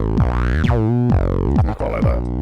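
Roland TD-3 303-style synth run through a FuzzBillion fuzz pedal on a dirty setting, a loud buzzy acid bassline with squelchy sweeping resonance and rapid gritty note slides, with no talking.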